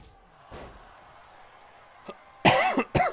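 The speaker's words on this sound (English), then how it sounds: "Every time I cough, my head hurts." Several harsh coughs come close to the microphone, a weaker one at first and then two loud bursts near the end, with quiet background sound between them.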